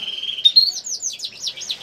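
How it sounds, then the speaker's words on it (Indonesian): A young canary sings a short, bright phrase: a sustained high note sliding into rapid, rhythmic trills, close and clear against a quiet background. "kenari itu akan gacor atau akan bunyi teman-teman"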